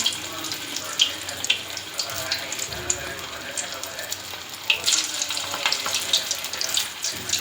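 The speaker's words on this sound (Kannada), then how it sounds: "ಈಗ ಎಣ್ಣೆ ಕಾದಿದೆ ಪಕೋಡ ಬಿಡೋಣ" Bread pakoda pieces dropped into hot oil, with a steady close bubbling and crackling hiss that carries on throughout with small bursts and spatters.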